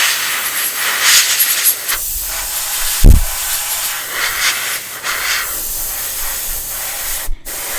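An aerosol spray can hisses continuously and close up while painting a Tamiya Volvo FH12 1/14 scale RC truck kit, the hiss swelling and easing with the sweeping strokes, broken by a brief knock midway.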